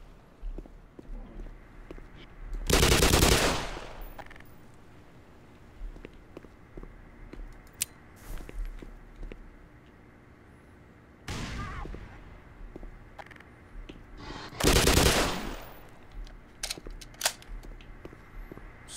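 Revolver shots ring out in the video game Black Mesa: three loud, sharp blasts spaced several seconds apart, with quieter in-game sounds and a voice in between.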